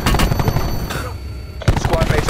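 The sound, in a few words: gunfire in a Call of Duty video game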